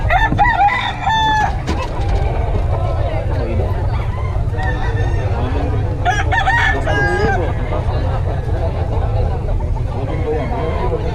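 Roosters crow again and again amid clucking chickens at a busy poultry market in Bocaue, with loud crowd babble and people talking throughout.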